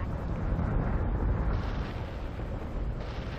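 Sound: base star destroyed, explosion in Battlestar Galactica Deadlock video game

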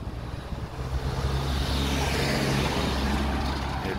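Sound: Luton delivery van truck passing on road

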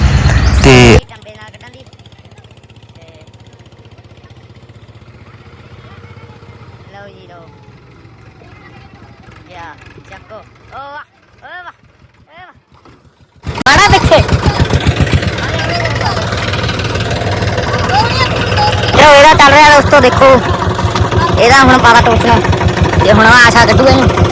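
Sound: tractor engine running, stuck in field

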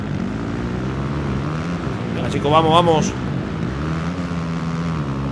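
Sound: motocross motorcycle engine in video game MXGP 2019

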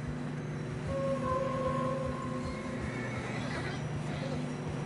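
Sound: horse neighing in Red Dead Redemption 2 video game

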